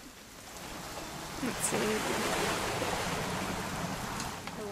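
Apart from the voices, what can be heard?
rain falling in video game What Remains of Edith Finch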